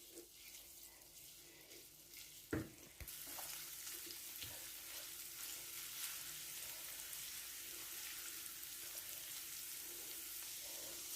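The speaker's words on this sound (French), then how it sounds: "Je rajoute l'ail et le gingembre râpé. Je vais les frire au moins 2 minutes." Garlic and grated ginger fry in vegetable oil in a pan, a steady bright sizzle that swells after a brief clatter near the start and then holds loud and even, with no voices.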